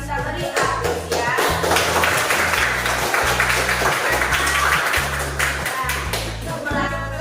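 A classroom of students claps in applause for classmates who just presented, a steady crowd of hand claps running throughout with low musical or voice tones underneath.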